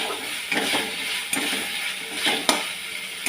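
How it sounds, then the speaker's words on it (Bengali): Spice paste with turmeric and salt fries in a pan for a banana-flower and chana dal dish, a continuous close sizzle broken by repeated scraping strokes of a spoon stirring it. "মশলাটা ভালো করে কষিয়ে নেব।"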